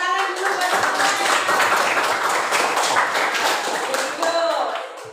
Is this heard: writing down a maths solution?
no